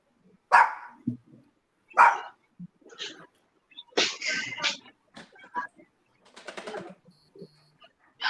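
Small puppies bark in short, high, scattered yips and bursts, some close and sharp, others softer, with brief whimpering between.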